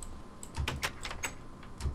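Fast clicking of keys on a computer keyboard, an uneven burst of close, crisp taps with a few heavier thumps, over a steady background hiss, without any talking.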